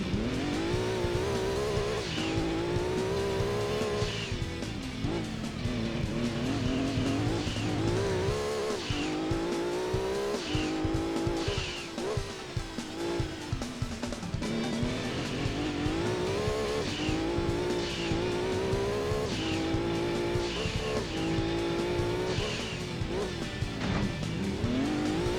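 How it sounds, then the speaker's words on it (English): A race car in the video game Gran Turismo 2 drives through a rally event, its engine revving and climbing through gears for the whole stretch, with tire squeal and skids between changes. "I still have first place with this fastest car in whole Gran Turismo 2"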